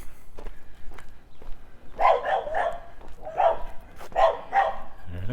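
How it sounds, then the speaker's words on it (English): Dogs barking behind houses along a residential street in northeast Regina, several bursts of sharp barks at moderate distance, with light footsteps nearby. "more barking, more dogs who don't like the fact that someone is talking in the street"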